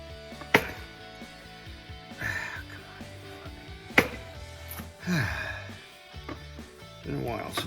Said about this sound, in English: Been a while since I've cut a mold.